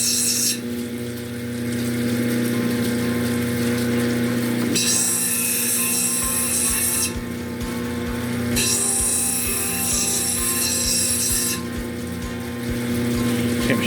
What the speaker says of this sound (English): I'm shaving a lot of the stone away